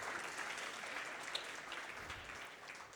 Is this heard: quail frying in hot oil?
no